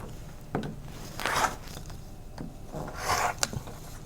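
Rotary cutter trimming quilt fabric pieces along a ruler, producing two soft rasping strokes with light taps between them, close up and with no talking.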